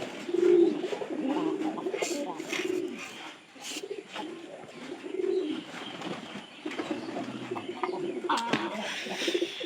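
Several large pigeons coo in repeated low, throaty bursts close by, with some softer chirps and a little background noise between calls.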